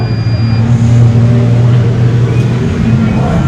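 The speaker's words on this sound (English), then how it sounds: "here comes Charlie Shaw's truck across the start-finish line." A Pro class off-road competition truck at the 2025 High Desert 100 in Powell, Wyoming roars loudly across the start-finish line, its engine note droning low and steady under a commentator's voice.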